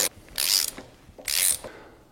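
Two hex keys tighten the adjustment screw on an Indexator MPB-1 pendulum brake, giving two short metallic ratcheting bursts close up in a quiet room.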